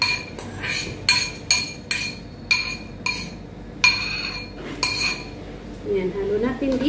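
Glutinous rice and cold cooked rice mixed in a bowl, with sharp, close clinks of a utensil striking the bowl at a loose, irregular rhythm, then softer stirring and a brief bit of talk at the end.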